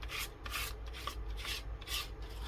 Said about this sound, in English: Just move the paint around a little bit so that it's not all in one spot.